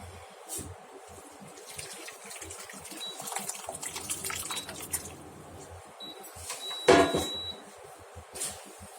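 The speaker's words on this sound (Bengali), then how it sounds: "ছানাটা হয়ে গেছে আমরা ঢেলে নেবো" Curdled milk (chhana) is poured out for straining, a wet pouring and splashing that swells and fades, with clinks of a vessel and a soft voice speaking over it.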